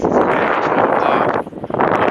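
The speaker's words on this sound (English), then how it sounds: "It's kind of windy outside today." Loud, gusty wind buffeting the microphone outdoors, a broad roaring rush that briefly dips before surging again.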